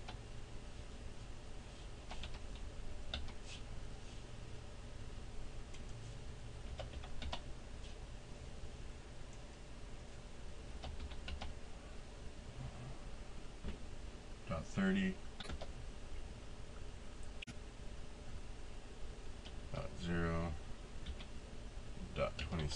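Someone types on a computer keyboard while setting up a network configuration in Windows Server 2003. Scattered, fairly quiet key clicks come in short bursts over a steady low background hum.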